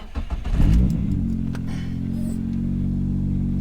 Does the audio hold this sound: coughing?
no